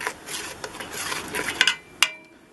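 A spoon scrapes and stirs smoked pork chili ingredients around a pot, giving a series of close rubbing, sloshing strokes and a couple of sharp metallic clinks near the end.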